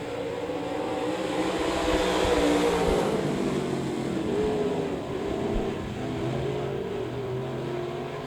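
Race cars in a four-car heat at Devil's Bowl Speedway accelerating on the green flag, a loud blended engine roar that swells and sweeps past, then settles into a steady distant drone.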